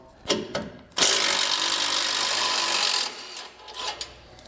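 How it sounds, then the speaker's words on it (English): A power tool spins out the 15mm bolts holding the tow hooks on a vehicle, a loud continuous whirring burst of about two seconds framed by short clicks and ratcheting sounds. "Using a 15mm socket, we can remove both of these bolts holding our tow hooks in place."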